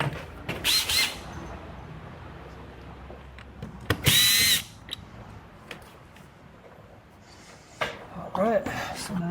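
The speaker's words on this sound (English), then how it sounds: "Let's go ahead and get our drill." A cordless power drill runs in short loud bursts while removing a window regulator panel from a 2014-2016 Hyundai Elantra, with quiet clicks and handling noises between whirs.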